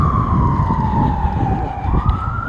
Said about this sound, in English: Always say blessings to the ambulance.